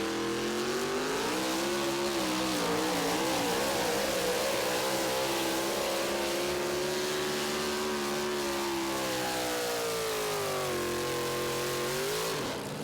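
A pulling truck's engine roars at full throttle throughout a truck pull at the 2023 Tomah, Wisconsin event, loud and sustained with its pitch rising and falling as the truck drags the load down the track.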